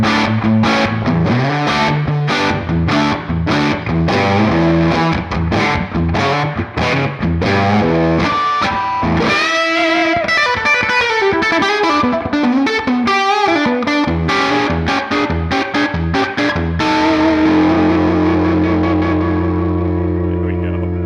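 A 1959 Les Paul guitar played through a very loud Marshall tube amp gives heavily distorted chords and sustained notes with a thick, saturated tone, ringing out alone at the end.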